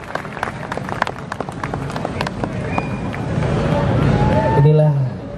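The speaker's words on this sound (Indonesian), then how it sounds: "Boleh berikan tepuk tangan yang meriah tentunya" Dense clapping from an audience at a YRKI gathering in Jogja, honouring Indonesia's transport minister, mixed with crowd noise and speaking voices, swelling slightly louder toward the end.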